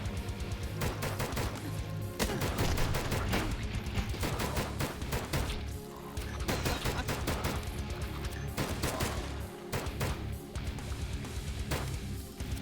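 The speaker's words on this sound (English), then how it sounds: "maybe I should be sticking with the starting pistol" Rapid, dense bursts of video-game pistol fire crackle nonstop in a loud, busy barrage of repeated shots with no pauses, along with other game effects.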